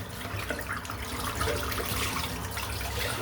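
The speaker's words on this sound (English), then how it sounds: "while I'm rinsing the brush out" A shaving brush is rinsed under a running tap, a steady close splashing and gurgling of water over the bristles that continues evenly throughout, with no talk.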